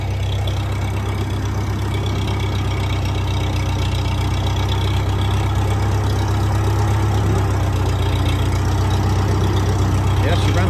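An old tractor engine idles steadily out in the woods during firewood logging, a loud continuous low rumble close by that holds an even pitch throughout with no breaks.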